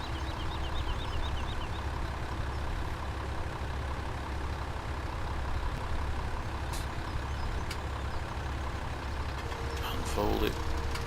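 Reversing beeps from a vehicle in Farming Simulator 17 repeat faintly and steadily over a droning truck engine for several seconds, with a brief hiss like an air brake near the end.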